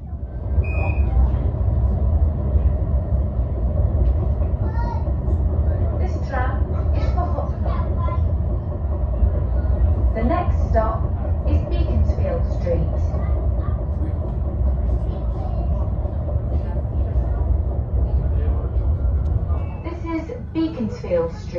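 A tram rumbles along in the UK on the way to Hucknall, a steady low drone throughout with people talking close by over it and a brief chime partway through.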